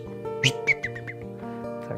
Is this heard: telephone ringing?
no